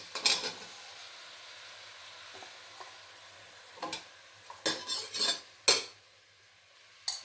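Mixed vegetables including brinjal, pumpkin, snake gourd and raw mango are stirred in a pan: a faint sizzle underlies several sharp spatula scrapes and clinks against the metal, close and without talk.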